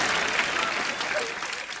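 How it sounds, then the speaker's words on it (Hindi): Studio audience applause at a comedy show, a dense, even burst of clapping that fills the whole moment. "ओए तालियां भी"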